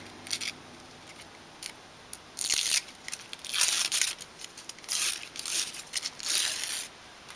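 Scissors snipping through yellow quilting fabric for a fabric pumpkin, a close series of crisp cuts in irregular bursts with brief pauses between, loud and clear with no talking.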